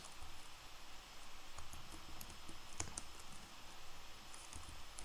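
Computer keyboard typing, a steady patter of light key clicks running through the whole stretch with one sharper tap near the middle, set against faint room noise.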